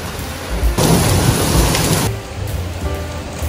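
A sudden thunderstorm shower in Tokyo pours down steadily, with a heavy, loud burst of downpour in the middle and low rumbles of thunder underneath.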